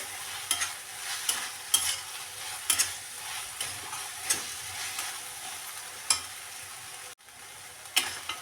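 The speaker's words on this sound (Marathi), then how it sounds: "बघा चवीनुसार मीठ घालूया परत छान असं फ्राय करून घेऊया" Khandeshi brinjal bharit with spring onion fries quietly in a pan while a spatula scrapes and stirs in a loose, repeated rhythm over a soft continuous sizzle.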